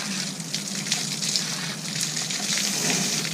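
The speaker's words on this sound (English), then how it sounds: "having some problems with the well, pumping dirty water," Dirty, silty water gushes steadily from a well pump at a spring cabin build site, a continuous broadband rush with no pauses and no talk.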